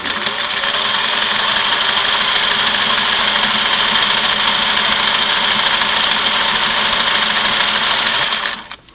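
A Singer 503A sewing machine runs a single needle satin stitch with a loud, steady mechanical whir and hum. It keeps an even pace up close for about eight seconds, then winds down to a stop.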